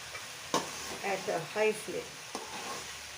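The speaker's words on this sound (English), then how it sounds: "Then toss all this at a high flame" Tomatoes, capsicum and sheek kabab stir-fried over a high flame, a steady sizzle broken by a couple of sharp utensil knocks against the pan while a person talks over it.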